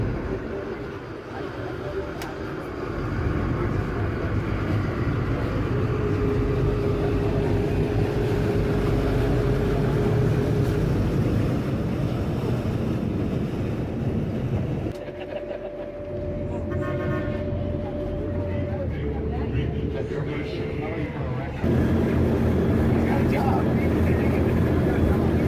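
Ferry crossing in Belize with a steady engine drone and water noise throughout, a long horn-like tone sounding midway, and people talking over the constant rumble.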